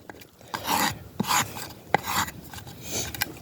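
Yucca leaf scraped with a carved wooden scraper to process fiber for cord, giving close rasping strokes in a few uneven bursts with short gaps.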